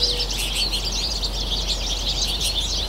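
Finches at a feeder chirp and twitter continuously, a busy overlapping chorus of high, quick calls with a low steady hum underneath.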